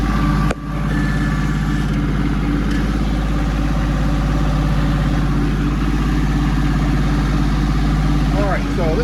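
A vehicle engine idles loudly and steadily after a brief thump near the start, holding an even low rumble throughout with a slight rise near the end.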